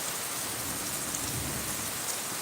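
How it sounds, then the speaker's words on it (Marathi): Heavy rain pours down steadily in Bidkin, Chhatrapati Sambhajinagar, making a dense, continuous hiss of drops on surfaces with no pauses and no voices. "पावसा जोरदार पावसाला सुरुवात"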